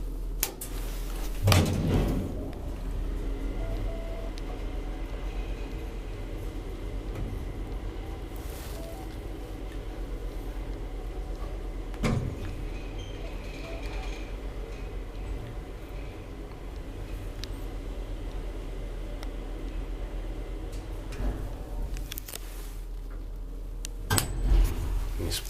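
An old Semag traction elevator in a Helsinki apartment building runs during a ride, giving a steady low hum and drone with occasional clunks and thumps from the car and doors.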